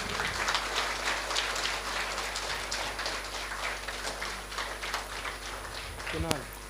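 Audience clapping at a prize distribution for a Bhagavad Gita value contest, a dense steady patter of many hands filling the room throughout, with a voice speaking over it.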